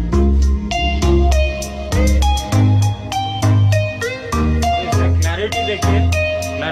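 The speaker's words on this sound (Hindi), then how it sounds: "उसके बाद हम लोग म्यूज़िक प्ले करेंगे। म्यूज़िक प्ले किया है," Music with punchy bass notes and sharp drum hits plays loudly through a Beta3 T15a 1100-watt active monitor speaker, a steady rhythmic pattern filling the whole stretch without any talk.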